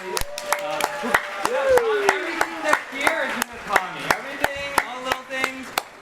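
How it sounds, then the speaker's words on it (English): An audience at a community dinner event applauds, with sharp, close individual claps in a steady rhythm over a murmur of crowd voices, some claps louder and nearer than others. "We should give a big applause to Tommy."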